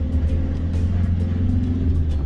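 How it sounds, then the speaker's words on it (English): Steady low rumble of a moving motorhome, with quick light rattling clicks repeating irregularly over it from a loose table leg knocking about. "Oh, it's my table leg falling around."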